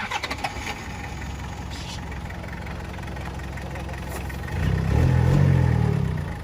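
A truck engine cranks and fires on the first try after a rough trail run, catching near the end into a loud, low rumbling idle that stays close and steady.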